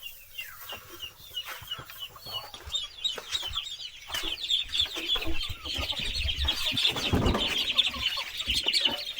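Chickens cluck and chirp steadily while digging through rice hull on a farm, a busy close flock with overlapping calls that build in loudness toward the end.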